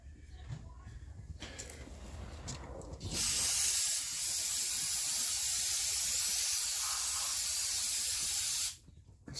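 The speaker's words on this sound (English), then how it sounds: "Spray down that carburetor pretty good." Cleaner sprays onto the carburetor of a Stihl MS-251 chainsaw in one long continuous hiss of about five seconds, close and loud, after some quiet handling noises.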